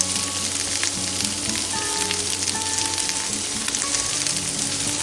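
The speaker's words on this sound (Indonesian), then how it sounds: "Tumis perlahan agar rasa manis alaminya keluar sempurna." Onions sauté slowly in a pan, giving a steady, even sizzle and crackle that stays close and unbroken throughout with no voices.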